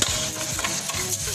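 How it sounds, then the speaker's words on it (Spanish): Rice briefly frying in a pan for a beef steak and turmeric rice dish, a short, close burst of light sizzling broken by stirring scrapes and rustles. "vamos a poner nuestro arroz. A freír un chiquitín."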